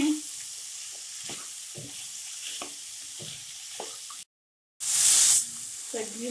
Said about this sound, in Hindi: सब्जियों को हमने भुना है आधे मिनट तक।